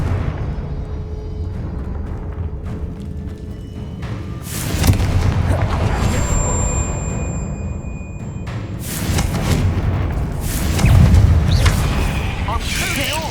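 Several spell blasts in the Hogwarts Legacy video game, with a Confringo blasting spell exploding in booming bursts around 5, 9 and 11 seconds, heard amid continuous game effects and background noise.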